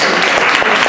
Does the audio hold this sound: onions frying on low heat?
no